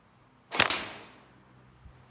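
A G36C gel blaster fires a single sharp, whip-like snap that quickly tails off into quiet, with a faint tap shortly after.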